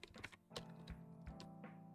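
Quick bursts of clicky keystrokes on a computer keyboard in a home setup, several taps clustered at the start and then scattered presses over a low steady background hum, fairly faint and close.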